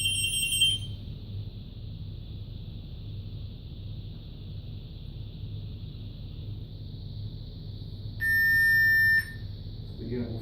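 A detector unit beeps on startup: a short high chirp at the start, a faint steady whine, then one longer, louder electronic beep near the end, over low background rumble.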